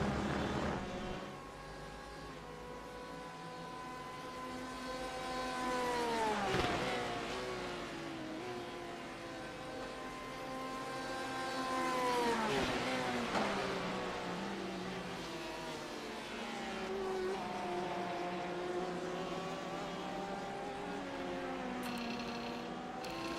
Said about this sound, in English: Currently, the closest battle on track right here between Aaron Hosford and Hunter Hadesty. Corvette versus Porsche.